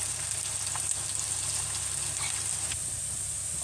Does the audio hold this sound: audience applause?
no